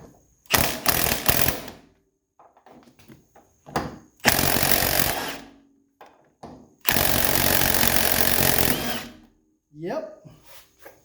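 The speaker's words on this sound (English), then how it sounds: "we're going to try our baby impact again. And we might be able to just spin that thing off of there real quick" A small impact wrench spins a suspension nut off a 1984 Mercedes 300SD in several loud, rattling bursts, each a second or two long, with short pauses and brief voices between them.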